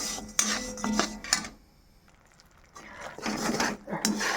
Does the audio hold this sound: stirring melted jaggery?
yes